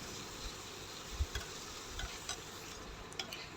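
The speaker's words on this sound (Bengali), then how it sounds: "এখন মশলা ভালো করে ভেজে নিব।" Spices with shrimp and fish frying in a pan for a kochur loti dish, giving a faint, steady sizzle with a few light stirring scrapes and no talk.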